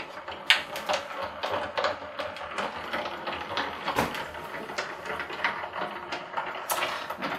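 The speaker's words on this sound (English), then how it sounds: "I'm just going to pop it on the plate and run it through the machine." A die-cutting machine feeds a plate holding a round bauble die through its rollers, giving a steady mechanical grinding and clicking run with a few sharper knocks, close and alone without voices.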